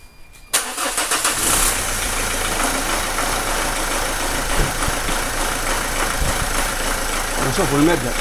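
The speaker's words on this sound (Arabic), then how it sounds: "طيب باش نشغل المحرك." A car engine, switched on at home for a cheap injector-cleaning job, cranks and catches after a short quiet moment, then settles into a steady, loud idle with a faint knock, while a voice may speak over it.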